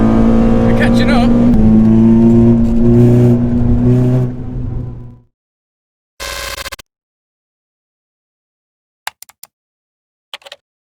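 A Renault Clio 182 engine revs hard under acceleration, a loud, rising drone for several seconds that fades out, followed by silence and a short burst of sound.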